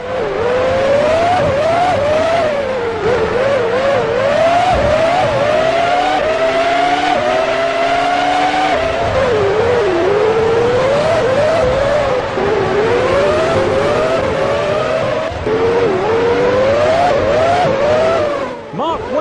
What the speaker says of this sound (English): Ferrari's Michael Schumacher is trying to get past Rubens Barrichello.